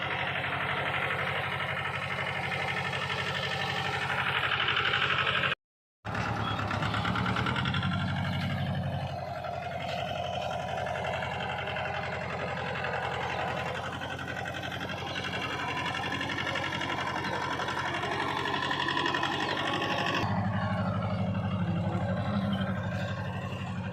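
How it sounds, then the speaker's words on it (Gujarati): A tractor engine drones steadily and close by while weeding a young tobacco field, a rhythmic mechanical chug with a brief cutout partway through, running without talk. "પાછળ તમાકુ કરપણ ચાલુ છે ટ્રેક્ટરથી"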